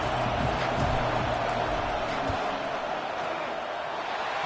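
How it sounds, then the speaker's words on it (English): Broad, steady roar of a college football stadium crowd during a field goal attempt, loud and continuous throughout, with low rumbling underneath. "This crowd trying to do its part to get inside the kicker's head"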